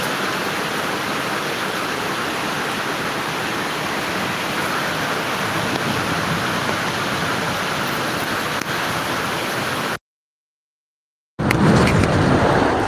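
Rain falling in Dhaka, a dense steady broadband wash of downpour that continues unbroken, then cuts out briefly before resuming loudly.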